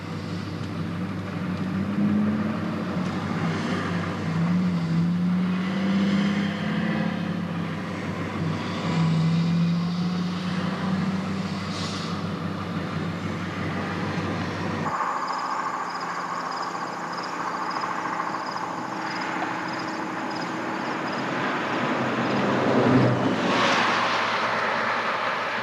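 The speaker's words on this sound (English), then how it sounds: "Over the sound of the traffic" Road traffic on a US highway heard from inside a vehicle on a cross-country drive: a continuous loud rumble and tyre roar with a low engine drone, the tone shifting partway through as the road surface changes.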